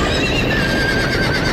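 Horses neighing and whinnying in the Game of Thrones video game, a loud, steady burst of several overlapping cries over faint hoof clatter, heard without speech.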